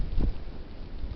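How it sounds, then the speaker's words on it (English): Heavy, freezing-cold wind buffets the microphone in a low, rumbling gust that swells early and then settles into a steady roar. "The heavy wind in the cold."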